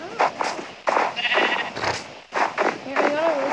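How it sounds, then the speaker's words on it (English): Several short sheep bleats from the Minecraft video game ring out clearly, some wavering and drawn out, while players talk excitedly over and between them. "Sheep!"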